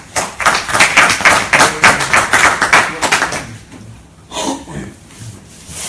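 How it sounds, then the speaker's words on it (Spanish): Audience applause welcoming a speaker at a talk on Chilote shipwright carpentry, a brisk burst of close clapping with distinct claps that thins out and fades after about three seconds, followed by quieter sounds. "Un aplauso, por favor."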